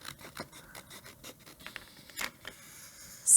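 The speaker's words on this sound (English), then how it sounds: "And then I can just use my scissors to trim this side." Scissors trimming the edge of a Cricut-made welcome sign, with quiet, irregular snipping and scratchy paper scraping close up, a few louder snips near the end.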